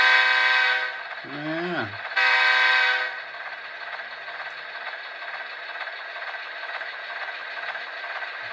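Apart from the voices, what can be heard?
horn from Soundtraxx TSU-21PNE sound decoder in HO scale EMD F40PH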